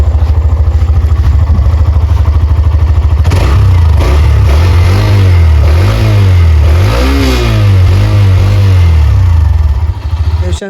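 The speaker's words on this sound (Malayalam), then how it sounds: "അടുത്തായിട്ട് നമുക്ക് വണ്ടിയുടെ എക്സോസ്റ്റ് ഒന്ന് കേട്ട് നോക്കാം" A Hero Xtreme 125R motorcycle exhaust idles close and loud, then revs repeatedly with rising and falling engine pitch, giving a thumpy, bassy note before easing back down.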